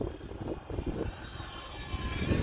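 An Arrows F4U-4 Corsair RC model airplane flies on a windy day, its electric motor giving a steady, moderately distant drone that swells slightly, with wind buffeting the microphone.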